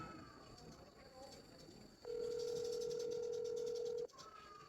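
A telephone busy tone on a call that won't go through: one loud, steady electronic tone lasting about two seconds, set against a faint, quiet room background.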